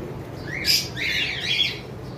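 Violet ewing opaline lovebirds squawk in a couple of short, shrill, nearby bursts over a quiet background.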